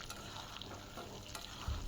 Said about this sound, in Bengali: আলুটা আমি লাল করে ভেজে নিচ্ছি